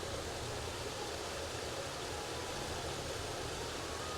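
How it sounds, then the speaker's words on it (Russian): Steady rushing water from a small waterfall on a forest stream in the Bavarian Forest, a constant broadband wash, fairly faint and unbroken with no voices. "Мы нашли маленький водопадик, очень прикольный."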